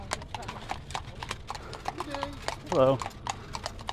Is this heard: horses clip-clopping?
yes